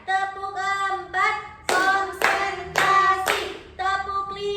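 A classroom of students clapping hands in a rhythmic clap chant, groups of sharp synchronized claps in patterned bursts, with children's voices singing or calling along between and over the claps.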